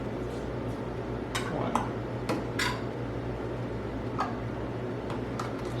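Metal canning jar lids and rings clink and tick against glass jars in a kitchen during strawberry jam canning, a scattering of light, sharp clicks at moderate level over a steady background hum, with a brief spoken word.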